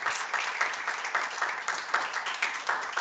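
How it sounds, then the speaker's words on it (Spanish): Steady applause from a small group at a library book club meeting, even dense clapping filling the whole moment at moderate loudness with no voices over it. "muchas gracias, le damos un aplauso"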